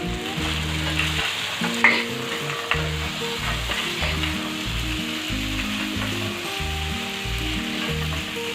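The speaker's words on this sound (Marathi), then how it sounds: "आता यामध्ये आपण तळलेले सोया चंक्स ॲड करूया।" Fried soya chunks dropped into a hot pan for soya chilli, sizzling and frying steadily while being stirred, with occasional scraping clinks of a spatula, no talking.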